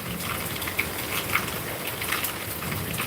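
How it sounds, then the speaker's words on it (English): Steady rain patters on the surfaces of a garden, a dense continuous hiss with occasional louder drips and droplets standing out, even and unbroken throughout. "it's raining on the outside"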